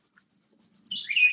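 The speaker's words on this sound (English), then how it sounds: "I hear the birds chirping somewhere." Small birds chirp in quick, high tweets, sparse at first and then building into a busier chattering burst, fairly close and clear.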